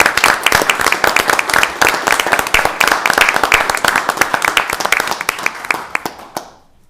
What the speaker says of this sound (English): if we could just give them a round of applause for the support